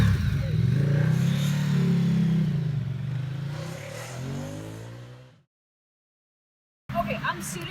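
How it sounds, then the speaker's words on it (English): A Ducati Diavel 1260S motorcycle engine roars loudly, then its revs slowly wind down into silence before another burst of noise. "I want to hear that engine again."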